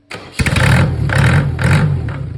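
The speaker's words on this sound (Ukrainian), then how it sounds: "Погазуй, погазуй." A Mercedes OM604 2.2-litre diesel engine with a mechanical injection pump is revved up close in loud, repeated bursts, roughly three throttle blips rising and falling in quick succession.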